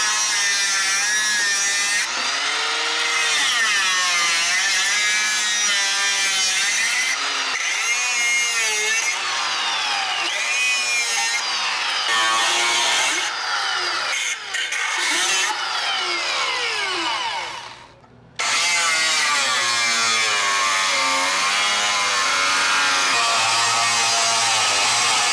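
A power tool rough cuts a notch in the frame of a 1967 Barracuda, a loud whining buzz whose pitch rises and falls as it bites into the metal, with brief gaps and a short stop near the end.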